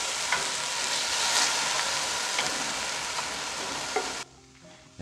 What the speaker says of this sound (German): das erste, was wir machen, sind die Zwiebeln andünsten